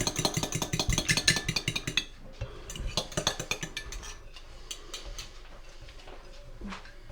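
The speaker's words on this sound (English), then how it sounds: "Now I'll whisk this egg up." An egg being whisked for Christmas pudding: a quick, dense run of metallic clinks against a bowl for about two seconds, then looser, intermittent tapping strokes at a moderate level.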